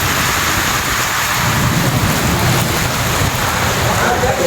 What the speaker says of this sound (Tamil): பலத்த காற்றுடன் பெய்த கனமழையால்